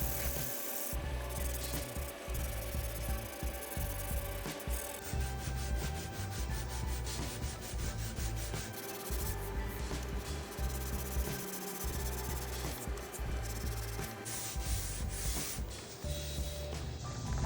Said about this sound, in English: I decided to switch to hand sanding that, just to make sure I didn't bust through any veneer